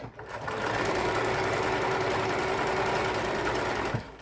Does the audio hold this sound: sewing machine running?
yes